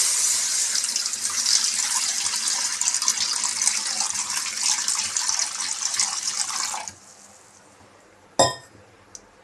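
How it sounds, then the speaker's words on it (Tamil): Water pours steadily into a hot pan with a broad rushing hiss for several seconds, then stops, followed by a single sharp metallic clink. "ஃபர்ஸ்ட் நல்லா காஞ்ச உடனே தண்ணி ஊத்திடலாம்."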